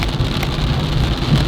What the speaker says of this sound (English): it was raining torrentially